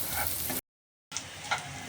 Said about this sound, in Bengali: আর একটা শন শন শব্দ হবে, তাহলে বুঝবেন যে এটা ভাজা হয়ে গেছে